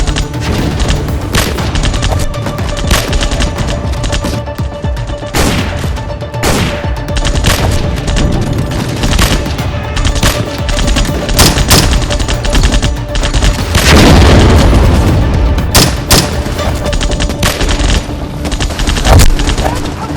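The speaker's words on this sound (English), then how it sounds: "As soon as the convoy halted, the enemy opened heavy fire." Heavy gunfire crashes through a battle scene of the 1947 Indo-Pak war in Kashmir, where a halted convoy is ambushed: loud, dense, continuous fusillades of rifle and machine-gun fire with heavy booming blasts, sustained throughout.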